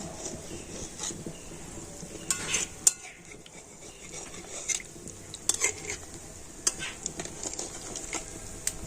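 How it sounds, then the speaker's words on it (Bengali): A spatula scrapes and loosens lentil fritters frying in oil, giving quiet scraping clicks and taps over a soft, steady sizzle. "বড়াগুলো দেওয়ার পরে আমি খুন্তি দিয়ে তলাগুলো একটু এইভাবে ছাড়িয়ে দেব"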